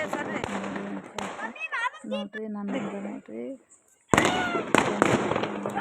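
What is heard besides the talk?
firecrackers bursting on a terrace during Diwali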